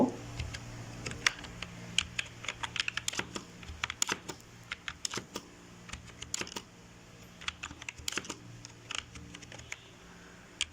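Rapid typing on a computer keyboard, uneven bursts of light clicky keystrokes with brief pauses, close and moderately quiet, no speech.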